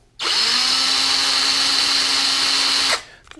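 A DeWalt 18V cordless drill runs on a charged NiCad battery, giving a loud, steady whine that starts abruptly, holds an even pitch for close to three seconds, then spins down.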